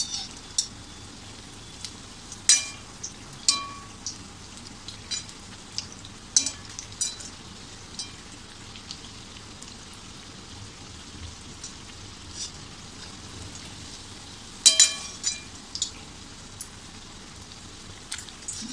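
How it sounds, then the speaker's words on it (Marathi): Parsi-style egg cutlet patties shallow-frying in a pan, a soft continuous crackle of oil with occasional louder pops and spatter bursts, close by and without talk. "हे सुद्धा पॅटीस आपल्याला असे छान खरपूस भाजून घ्यायचे"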